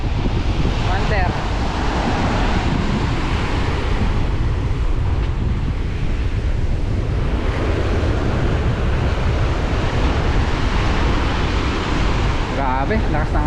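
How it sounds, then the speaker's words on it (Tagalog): Gusty wind roars over big ocean waves around a fishing boat, a loud continuous rush of air and surging water with brief faint voices near the start and end. "Grabe, lakas ng hangin, oh. Ang lalaki ng alon"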